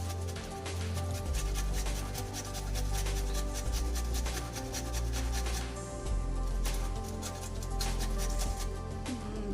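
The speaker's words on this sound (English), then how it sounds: "Grating the ginger" A thumb-sized piece of ginger is grated for seasoning pork spare ribs, giving a close, rapid rasping scrape in quick repeated strokes that continue steadily throughout.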